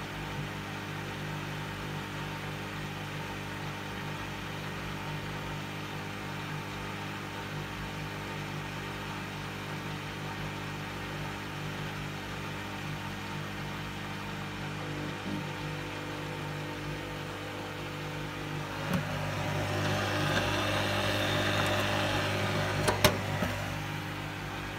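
Hoover washing machine in an unbalanced final spin, a steady low mechanical hum and drone that swells louder near the end with rattling and a sharp knock or two.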